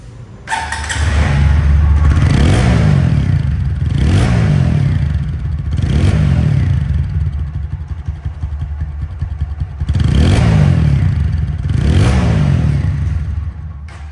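A 2023 TVS Apache 4V ABS motorcycle idling close by and revved several times, each throttle blip rising into a loud roar and falling back to a steady idle, with no talk over it.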